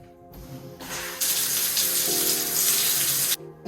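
Water rushes steadily from a newly installed Hansgrohe shower system with an adjustable handheld wand during its first test, a loud continuous hiss that starts after a brief lead-in and runs about two seconds before cutting off.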